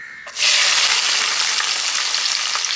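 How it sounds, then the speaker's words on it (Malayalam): Chopped garlic drops into hot sesame oil in a non-stick pan for a fish pickle and is stirred, bursting into a loud, steady, crackling sizzle after a brief quiet start. "വെളുത്തുള്ളി എണ്ണയിലേക്ക് ഇട്ടു ചെറുതായി ഒന്ന് ഇളക്കി കൊടുക്കാം"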